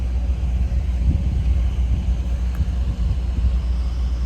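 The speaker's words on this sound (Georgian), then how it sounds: "ტესლა" A Tesla electric car passing on a road, a low steady rumble of tyres and road noise close by, no engine note, heard alone for a few seconds.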